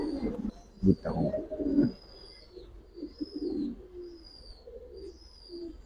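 Low, soft cooing from Giribaz highflyer and colouring pigeons repeats in gentle phrases, with a few close thumps early on and faint chirps in the background.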